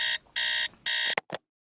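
An alarm clock rings in three loud, shrill, evenly spaced bursts, then gives two short chirps before cutting to silence.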